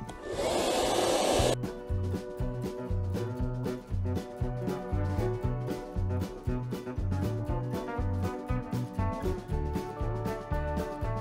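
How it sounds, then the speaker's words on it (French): A loud hair dryer blows a steady whoosh at first, heating heat-shrink tubing on an e-cigarette battery, then the whir continues under rhythmic background music for the rest of the clip. "Et ensuite, on y va au sèche-cheveux,"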